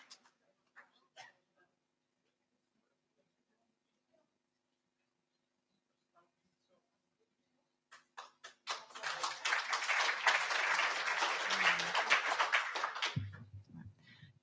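Applause welcoming an artist named artist of the year, a few isolated taps at first, then a burst of close clapping swelling for about five seconds before stopping abruptly into a low murmur.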